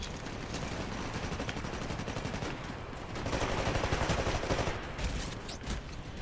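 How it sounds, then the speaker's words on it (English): Rapid automatic gunfire in Titanfall on Xbox 360, dense continuous bursts that swell louder midway, heard without speech. "Getting shot at."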